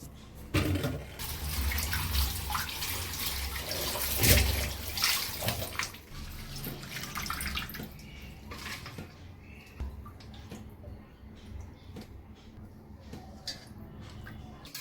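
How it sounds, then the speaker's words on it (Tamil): Thoodhuvalai leaves are rinsed in a vessel of water, giving a splashing, sloshing run of water loudest in the first six seconds, then thinning to scattered drips and small splashes; a voice is faintly present. "இப்போ தூதுவளையை நல்லா கழுவி எடுத்துக்குவோம்"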